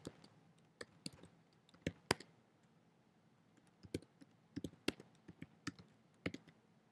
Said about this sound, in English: So I'll just type in some answers.